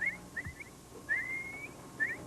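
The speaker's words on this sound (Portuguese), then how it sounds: "Ele assobia e elas aparecem, como se fossem hipnotizadas pelo som." A boatman on an Amazon river whistles to call capybaras, giving several short high whistles and one longer drawn-out note, clear and close over faint background hum.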